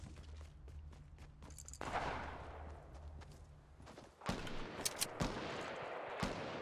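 Video game gunfire in Fortnite: a few sharp, loud shots and short bursts ring out in the latter half, after a stretch of rumbling game ambience.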